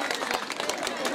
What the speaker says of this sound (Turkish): ona bir alkış gelsin şöyle